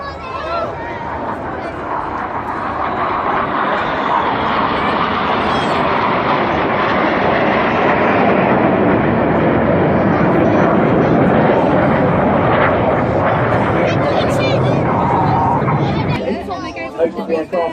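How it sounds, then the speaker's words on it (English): A Tornado jet aircraft passes at a seaside airshow, a broad roaring rush that builds and fades while a commentator and crowd chatter carry on over it. "So now, celebrating the Tornado Bomber Force, in from the right, this is Tornado!"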